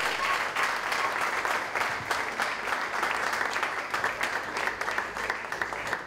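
A Science Slam audience claps and cheers in sustained, even applause lasting about six seconds, with no talking over it.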